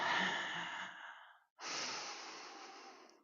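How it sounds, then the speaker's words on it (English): Two forceful breaths during a breathwork exercise: a long, loud breathy exhale that fades out, a brief pause, then another strong rushing breath, close to the microphone with no talking. "Exhaling with force now."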